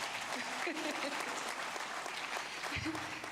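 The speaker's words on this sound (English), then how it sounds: "Can you please clap for us?" Dense, steady audience applause fills a session hall at a water and sanitation congress, with faint voices murmuring beneath the clapping throughout.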